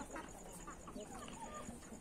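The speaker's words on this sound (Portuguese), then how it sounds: "Ontem eu trouxe um galo novo pra cá" A rooster, a newly arrived farm bird, sounds off faintly at a distance in a few short, rough calls over a quiet outdoor backdrop; soft talk may be faintly present.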